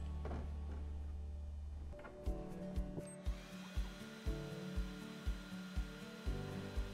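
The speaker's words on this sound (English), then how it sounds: "With smoke purifier, let's see how is it when we cut through the plywood." An xTool laser cutter cuts plywood while a smoke purifier runs. A blower-like whoosh comes first, then a rhythmic run of mechanical thumps and whirs repeats about twice a second over the steady fan hum.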